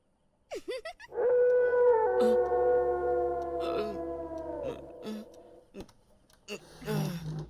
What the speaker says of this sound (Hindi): भैया कुत्ता भौंक रहा है।